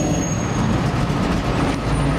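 1969 Chevrolet Camaro engine running in Waikiki, a loud continuous low rumble held steady throughout with no talk.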